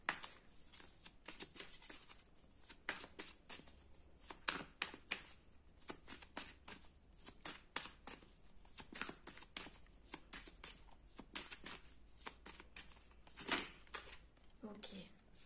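Mandala oracle cards being shuffled in quick repeated riffles and slides, close and crisp, with someone talking over them throughout.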